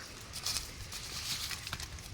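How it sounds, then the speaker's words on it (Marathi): Faint, soft patter of light drizzle, a quiet steady hiss with scattered tiny drops and no voices. "पाऊस बाहेर असं जोरात नाही आहे पण बारीक अशी झिमझिम चालू आहे"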